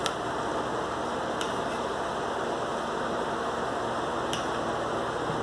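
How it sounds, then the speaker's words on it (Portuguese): An electric fan runs in a kitchen while cheese-and-ham empada filling is prepared, giving a steady, even broadband whoosh that holds for the whole stretch, with a couple of faint ticks and no talking. "tá ventando assim que o Tony ligou o ventilador ali um bocadinho pra mim."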